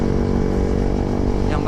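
A Yamaha R15 V3 motorcycle rides steadily along a road near a flyover, its engine giving a constant, loud droning hum close up.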